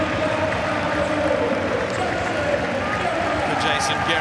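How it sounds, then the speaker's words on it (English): Steady roar of a football crowd applauding Jason Guerrier at AAMI Park during a Melbourne Victory v Newcastle Jets A-League match, a dense continuous wash of clapping and cheering with a commentator talking over it. "There'll be a good round of applause here"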